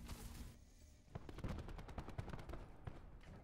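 Rapid gunfire from the Call of Duty: Black Ops 4 video game fires in a quick string of sharp, punchy shots over dense background game noise, loud and close.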